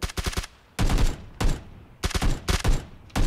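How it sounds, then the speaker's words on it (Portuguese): Bursts of rapid gunfire in the battle royale shooter PUBG, several loud, close volleys of sharp shots separated by brief pauses, with no talking. "muito tiro lá de cima, velho"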